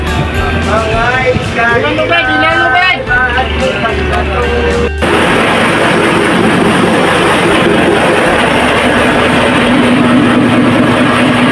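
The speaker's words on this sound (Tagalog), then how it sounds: "Pinandar na yung makina mga kaigops." A boat's diesel engine started up after a jump from a truck battery, and a loud, dense mechanical roar then runs steadily near the microphone. Before it starts, a person talks over the sound of another engine.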